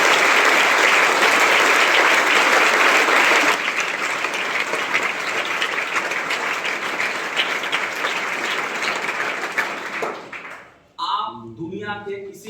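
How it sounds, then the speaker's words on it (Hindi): Audience applause at a business seminar, loud sustained clapping from a large crowd that fades gradually over about ten seconds before a short pause and a brief return of noise. "एक बार जोरदार तालियां आप अपने लिए बजाएं"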